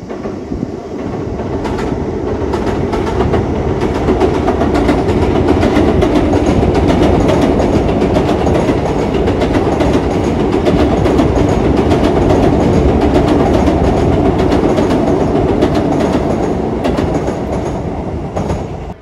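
A train rumbles steadily past nearby on a bridge over the Tsurumi River, wheels clattering over the rails for a long, loud passage that swells and then eases off.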